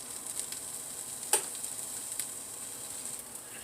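Tofu browns in a pan with a soft, steady sizzle and fine crackle, faint and continuous, broken once by a small tick, with no talk.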